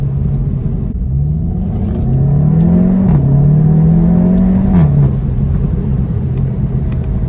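Seat Leon Cupra 300 with DSG gearbox, engine revving after a paddle downshift in sports mode, a loud close drone that climbs, holds, dips and climbs again before settling.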